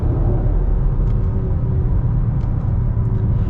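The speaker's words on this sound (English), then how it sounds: "the shifts are really quick for a CVT automatic transmission" Cabin rumble of a 2021 Nissan Rogue Platinum with a CVT automatic in manual mode, paddle shifts quick, a steady low engine drone with a few faint brief clicks on top.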